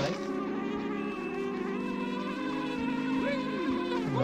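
Bees buzz steadily and close in the video game Banjo-Kazooie, a continuous droning hum with pitch wobbles as they move, with no voices.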